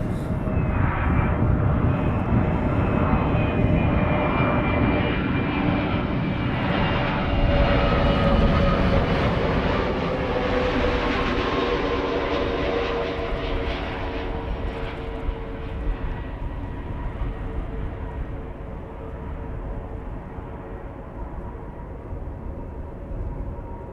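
KLM jet airliner on approach to Amsterdam Schiphol, a loud, sustained engine roar that swells and then slowly fades as it passes, with no speech.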